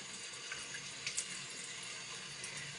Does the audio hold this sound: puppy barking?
no